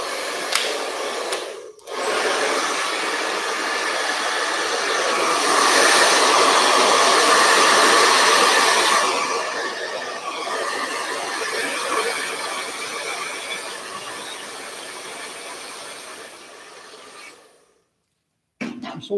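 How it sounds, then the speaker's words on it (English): A hair dryer blows steadily and loudly for around sixteen seconds, its roar swelling and easing slightly before it cuts off abruptly near the end, with faint speech. "And let's get the hairdryer on that."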